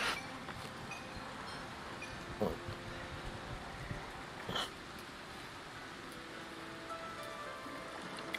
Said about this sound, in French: Et il pleut.